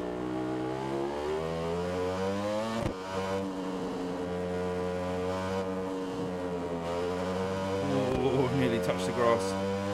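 A racing motorbike in RiMS Racing accelerates out of a hairpin, its engine note rising steadily and loud, with a brief dip midway, then climbing harder as it pulls away.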